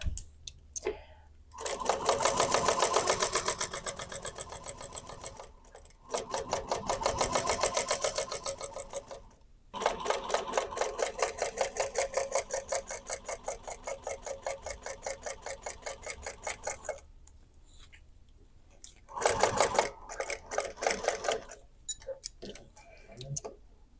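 A sewing machine stitches a clutch bag in several long runs, its rapid even needle ticking loud and close, broken by short pauses between seams.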